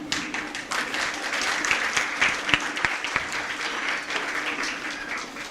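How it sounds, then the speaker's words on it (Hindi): An audience at an annual prize event for an education and welfare society gives a guest speaker, a police officer, a sustained round of applause that is loud and even throughout. "जोरदार तालियों से इस्तकबाल"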